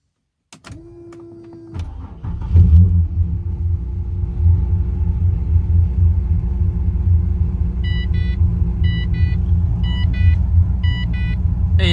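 A supercharged V6 running E85 cranks with a short whirring starter, catches, and settles into a loud, deep, steady rumbling idle with a faint repeating chime later on.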